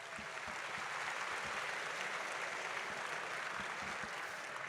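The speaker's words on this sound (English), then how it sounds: "So give yourselves a round of applause." Sustained applause from a sizable crowd at a 2019 State of the City address, dense steady clapping throughout with no voices over it.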